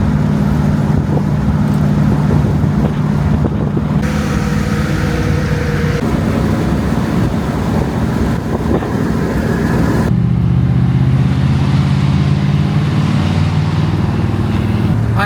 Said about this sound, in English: A lot of driving on the Galaxie today, but it handled it well.